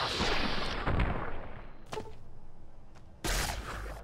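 A sharp gunshot cracks near the start in the video game Fallout: New Vegas, followed by a couple of fainter impacts, then another loud burst of noise toward the end.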